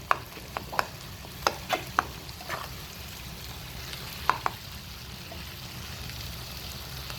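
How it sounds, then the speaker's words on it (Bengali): Tomatoes with turmeric and chili powder are stir-fried in a pan for a prawn and ridge gourd curry, giving a soft steady sizzle and a run of sharp spatula scrapes and taps early on before it quiets into gentle frying, with no speech. "আর লঙ্কা গুঁড়ো দিয়ে কষবো। টমেটোগুলো গালিয়ে দেবো।"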